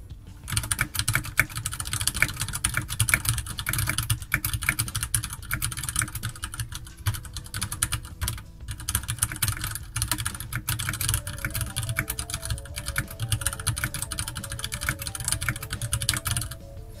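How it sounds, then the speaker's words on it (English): Steady, fast typing on a Ducky Shine 3 mechanical keyboard with muted, tactile Cherry MX Brown switches, a dense stream of close keystrokes with no talking. "let's do the sound test. Ducky Shine 3 with Cherry Mix Brown."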